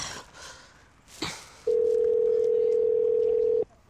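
A telephone ringback tone during a call: one steady, loud electronic tone holding for about two seconds, then cutting off abruptly. A few faint, brief sounds come just before it.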